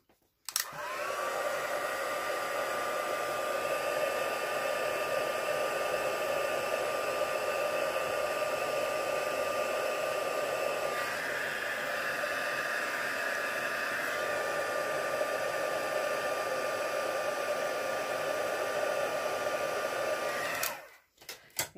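A handheld heat tool used in card making blows hot air in one long, steady whirring hiss for about twenty seconds, close and constant, switching on and off cleanly at each end with no talking.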